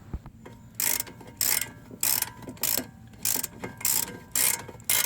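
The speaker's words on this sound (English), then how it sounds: "So now we just got to get the upper bolt completely loose." A ratchet clicks in repeated bursts of rapid pawl ticks, about eight strokes with short pauses between them, as it works loose the upper brake caliper bracket bolt on a Chevy Cruze. The ticks are close and fairly loud, with no talking.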